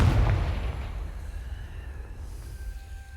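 A booming explosion from the Confringo blast spell cast in a video game, a loud burst at the start that rumbles and fades over a few seconds, with a faint tonal ring at the end.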